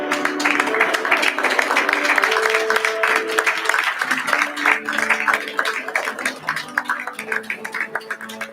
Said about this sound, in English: with a thunderous celebratory round of applause